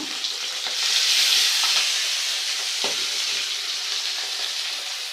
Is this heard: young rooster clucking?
no